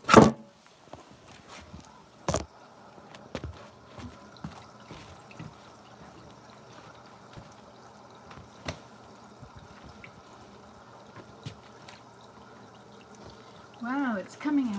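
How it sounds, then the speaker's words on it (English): Water pours and splashes out steadily during outdoor cleaning, a low continuous wash with occasional knocks and a voice speaking near the start and end. "Oh, here comes the water."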